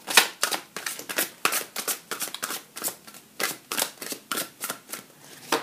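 Tarot cards being shuffled by hand, a quick series of crisp riffling and slapping bursts at close range, repeating irregularly without pause and with no talking.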